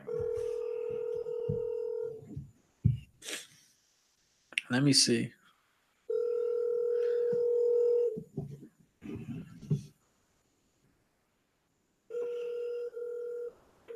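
Telephone dialing tones on a phone, steady tone bursts and short beeps in several separate runs, with someone talking in between.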